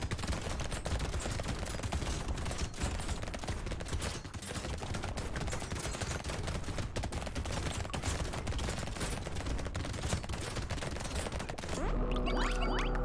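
Dense, continuous gunfire from the top-down arena shooter roguelite Brotato, shotgun blasts piling into a steady loud barrage with game effects, a brief tonal jingle rising near the end.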